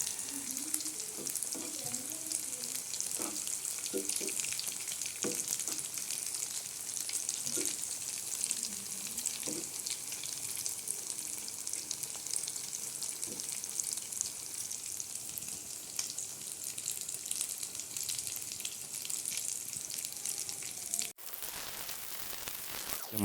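Mini flower-shaped samosas frying in hot oil, giving a steady, close sizzle and crackle with small pops that runs without a break and then dips briefly near the end.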